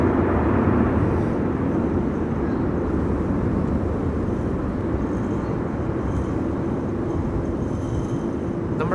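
A Cathay Pacific Cargo Boeing 747 arriving from Paris at Amsterdam Schiphol in high winds, a steady low jet rumble mixed with gusting wind noise, continuous and moderately distant.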